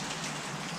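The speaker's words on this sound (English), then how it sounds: "we will see what happens if this rain will stop or not." Steady rain falls outdoors while yard work on a parking pad waits. It makes a brief, even hiss of drops with no voices.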